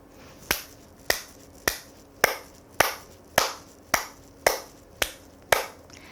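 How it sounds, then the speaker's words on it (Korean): Sharp, loud, forceful hand claps for a warm-up exercise repeat at a steady, even pace, about ten in a row, each ringing briefly before the next. "박수치기부터 시작하겠습니다"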